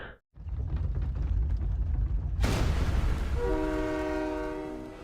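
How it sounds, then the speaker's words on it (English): A loud, low rumbling roar swells and fills the scene, followed by a sharp burst and a sustained horn-like tone, like thunder in Blue Archive. "Sounds like thunder."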